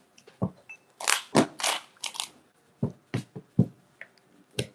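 Merienda snacks being eaten by several people, with sharp crunchy bites and chewing in short, irregular bursts, close and fairly loud amid brief quiet gaps.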